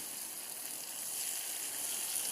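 Chunks of elephant foot yam (karunai kizhangu) deep frying in oil, a continuous soft hiss and crackle that holds steady and close from start to finish, with no talking.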